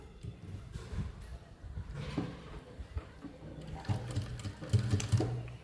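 A sewing machine stitches a fabric joint on a handmade baby cap, with a soft, close whirring run of needle strokes that swells and eases in short stretches and grows busier toward the end.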